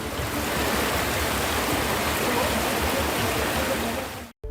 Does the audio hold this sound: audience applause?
no